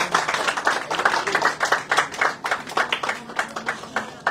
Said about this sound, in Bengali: প্রথমেই একটু জোরে হাততালি দিতে হবে